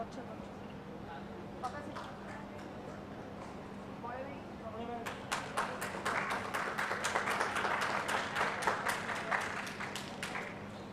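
A seated audience at a Pravasi Odia community event bursts into sustained clapping, welcoming speakers to the stage. A voice talks over a hum at first, then dense, fairly loud applause fills the last half.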